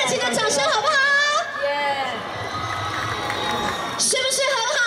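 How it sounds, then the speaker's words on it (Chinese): An audience at a New Year's Eve countdown show in Taichung cheers and claps for a singer, a loud burst of crowd noise and whoops in the middle, with someone talking over the start and end. "再次一个热情的掌声好不好"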